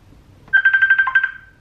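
A mobile phone ringtone plays as a bright, rapid electronic trill of about eight even pulses. It starts suddenly after a quiet room and fades out close by.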